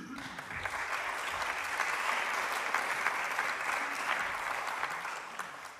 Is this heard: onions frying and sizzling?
no